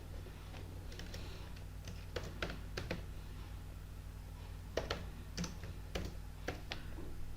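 Keys tapped on a computer keyboard while entering data into a Java mobile-repair management program, with scattered quiet clicks in short bursts and pauses over a low steady hum.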